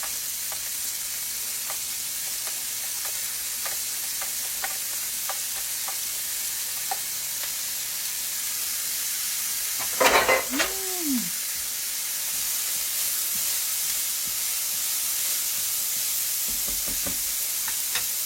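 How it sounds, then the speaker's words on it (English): Chopped celery and onion sauté in olive oil with a steady, close hiss and sizzle throughout, broken midway by a brief louder clatter and a short squeaky scrape. "chopped celery and 1 cup of chopped onion. And I'm going to"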